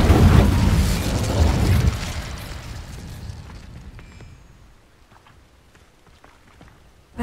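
A fire spell cast in Hogwarts Legacy, a loud whooshing, rumbling burst of flame that flares at once and then fades into a long crackling tail over several seconds, heard alone.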